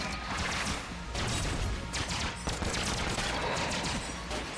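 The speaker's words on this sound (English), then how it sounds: "There goes 3 shots." Rapid bursts of gunfire from the video game Enter the Gungeon, dense and continuous with several sharp volleys, loud and up close with no talk over it.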